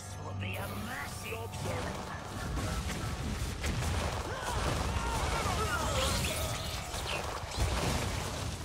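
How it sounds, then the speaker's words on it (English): Crackling, popping bursts of fireworks effects erupt in a digital card game, a dense busy clatter of bangs and sparkles that swells and lingers for several seconds, with a voice talking over it. "Fireworks everywhere."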